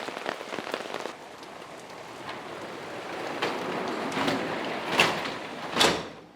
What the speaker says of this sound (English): It started downpouring